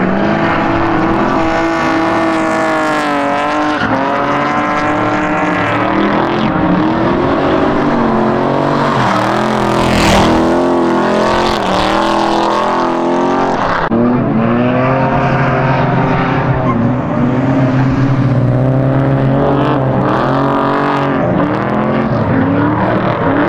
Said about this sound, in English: So everybody's out here drifting now.